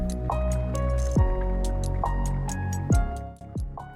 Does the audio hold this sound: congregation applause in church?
no